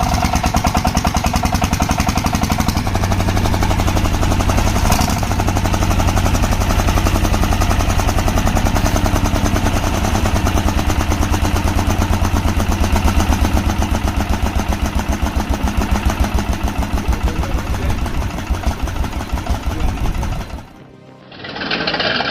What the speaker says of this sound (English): Its roar can be quite loud, but that is an unmistakable characteristic of a classic diesel engine.